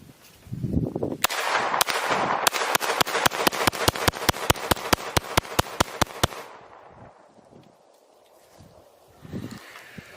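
A pistol fires a rapid string of about twenty sharp, loud shots in quick succession, followed by quieter ringing and faint movement.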